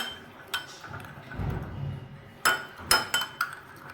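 A spoon mixing tutti frutti ingredients in a bowl, a soft stirring swish followed by several sharp clinks against the dish, close and fairly quiet.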